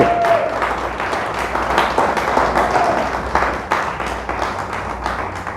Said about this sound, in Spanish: denle un fuerte aplauso a Dios, déselo fuerte, fuerte.